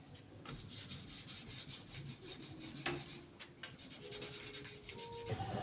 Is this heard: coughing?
no